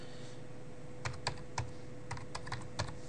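Commands are tapped out on a computer keyboard, a quiet run of crisp, irregular clicks close to the microphone over a faint steady hum.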